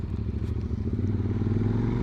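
A QJ Motor adventure motorcycle engine runs steadily at close range, a continuous loud rumbling drone with slight fluctuation and no speech over it.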